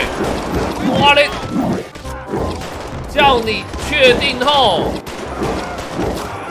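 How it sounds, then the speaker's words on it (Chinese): Gunfire in the video game GTA 5, bursts of shots crashing over a busy game soundtrack while someone talks excitedly throughout. "你确定你要对我开枪？"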